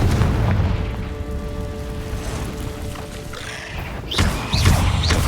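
Confringo explosive spell blasting in the Hogwarts Legacy video game, a deep rumbling boom that rolls on, followed by sharper bursts and crackling impacts near the end.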